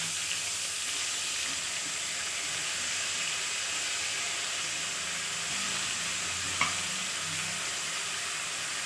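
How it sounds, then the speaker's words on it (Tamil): Palak spinach sautés in a hot pan with a steady, even sizzle and hiss, close and continuous, broken by one brief clink of a utensil. "கீரையை சேர்த்து நல்லா ஒரு வதக்கு வதக்கிட்டு"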